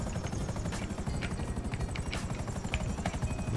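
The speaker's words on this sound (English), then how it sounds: "Let's put the helicopter right here." Helicopter in a casino-themed video game expansion, rotor chop beating steadily and loud throughout with a dense whirring drone and no talk.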